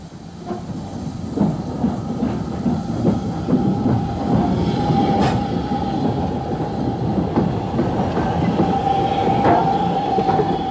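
Veteran steam locomotive 440 on the Swanage Railway rumbles steadily into Hurston station, its heavy low drone and faint clanks building and holding close by, with no voices.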